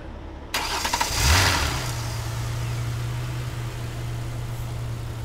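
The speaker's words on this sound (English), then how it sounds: "It fired right up." A car engine cranks briefly and catches, then settles into a steady, fairly loud idle that holds for several seconds with no voices.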